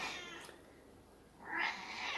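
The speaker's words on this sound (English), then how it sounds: "Sorry for the cat." A hungry house cat meows indoors, two drawn-out, fairly faint cries separated by a pause, with no talking.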